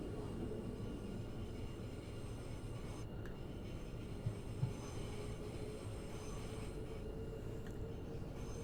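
A train in a simulator game runs on the East Coastway line, a continuous loud rumble of wheels and motor with faint clicks over the rails, steady throughout with no talking.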